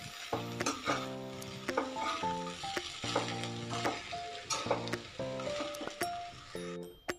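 Flattened rice (avalakki) with tempering is stirred in a hot pan, giving a soft sizzle and rhythmic spatula scrapes, partly covered by sustained musical tones.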